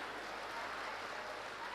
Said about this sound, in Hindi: इस पे तो जोर से ताली बजाओ